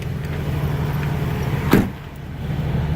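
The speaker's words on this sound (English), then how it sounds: "here we've got a 2003 four-wheel drive Ford Ranger with the 4-liter V6" 2003 four-wheel-drive Ford Ranger with a 4-liter V6 idling after a cold winter start, a steady low engine drone with a brief clunk or thump midway, no talking.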